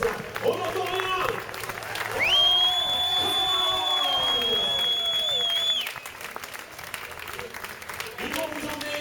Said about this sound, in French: On va leur faire le tonnerre d'applaudissements.